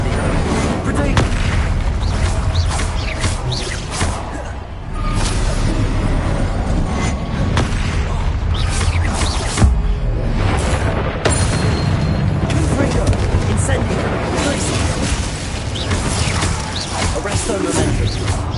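Confringo and Incendio spell blasts in Hogwarts Legacy, loud repeated booming bursts and crackling impacts over a dense rumbling battle din.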